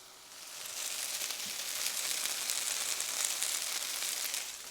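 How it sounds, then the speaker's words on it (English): Meatballs sear in a hot pan to form a light crust, giving a steady, broadband sizzle that holds at an even level throughout, with no talking over it. "So y'all hear that sizzle?"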